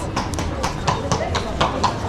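A horse's hooves clip-clop along a street during a trip in Italy, a steady rhythmic run of hoofbeats at moderate distance over constant background street noise.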